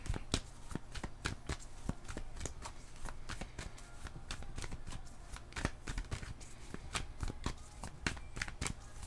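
Tarot cards being shuffled by hand at close range, a steady run of crisp riffling flicks and soft slaps repeating for several seconds with no voices.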